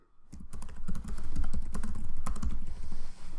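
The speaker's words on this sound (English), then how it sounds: "then I can type more here." Rapid typing on a computer keyboard, close and clear, a dense run of key clicks starting after a brief silence and continuing steadily to the end, with no voice.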